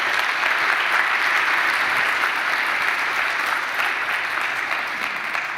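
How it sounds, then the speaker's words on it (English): An audience at a career development workshop on academic pathways in Spain applauds for Marisol Martin Gonzalez, with even, continuous clapping from a full room that tapers only slightly at the close. "another applause for Marisol Martin Gonzalez"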